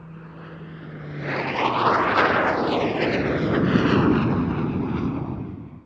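A Hawker Hunter jet aircraft roars past overhead at an airshow, its rushing engine noise swelling and sweeping in pitch before slowly fading.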